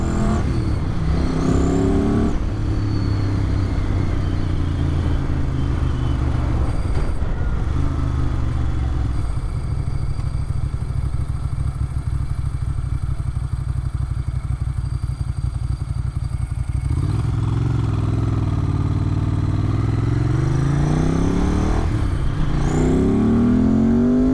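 A 1994 Ducati 900 Supersport motorcycle rides along a road, its engine loud and continuous with rising and falling revs throughout, no voices.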